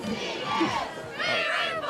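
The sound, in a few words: football crowd cheering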